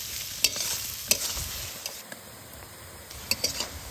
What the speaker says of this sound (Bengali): এবার পেঁয়াজগুলা কিন্তু বেশ লাল লাল করে ভাজে নিবে